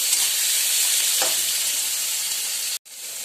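Onion and garlic hit hot oil in a kadhai already holding cumin and green chillies, giving a loud, steady, close sizzle and hiss that cuts out for a moment near the end before resuming.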